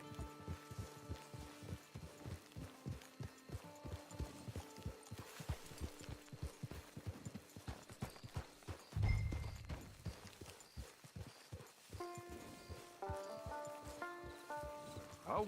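Horse hooves clip-clop steadily at a trotting rhythm in Red Dead Redemption 2, close and continuous, with a brief heavier thump partway through and faint tonal game music underneath.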